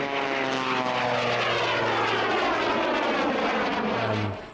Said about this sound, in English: the Jack Lynx plane, aka the Screamin' Sasquatch, a biplane that's fitted with a jet engine